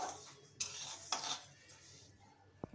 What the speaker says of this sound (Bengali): দেখো আমরা এটা হালকা করে নেড়ে নিয়েছি, সুন্দর একটা গন্ধও বেরোচ্ছে।